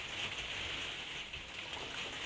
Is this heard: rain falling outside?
yes